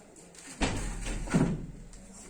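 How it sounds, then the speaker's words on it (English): A door in a lecture room is pushed shut, making a muffled thump followed by a second soft knock of the latch, close by against low room hum. "let me just close the door"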